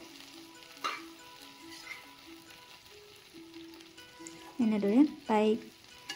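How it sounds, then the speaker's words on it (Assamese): Jujubes fry in hot oil for a jujube pickle, giving a soft steady sizzle behind a sustained tonal hum, with a brief voice partway through and louder clattering bursts near the end. "৩-৪ মিনিটমান মই ভাজি আছোঁ।"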